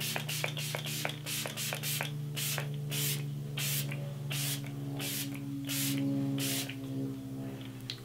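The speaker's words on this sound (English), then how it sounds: "this is an illuminating makeup setting spray" An illuminating makeup setting spray is misted in about a dozen quick, close, sharp spritzes, evenly paced at first and then slowing, over a steady low electrical hum.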